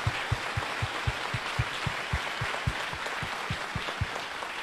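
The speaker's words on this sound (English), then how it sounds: "I ask you all to please join me in a round of applause for these distinguished guests." A large audience at a military basic training graduation ceremony at Fort Jackson applauds, a dense wash of clapping with rhythmic thumping beats running through it, steady and moderately loud with no talking.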